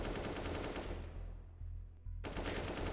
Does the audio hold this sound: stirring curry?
no